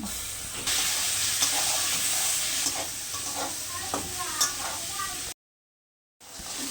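Steady sizzling of raw green mango pieces frying in a hot pan with onion and garlic, with occasional stirring scrapes and clicks; the hiss cuts out briefly near the end.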